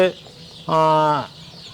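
Native chickens on a hatchery farm give a brief cluck followed by a longer, loud, nasal cluck up close.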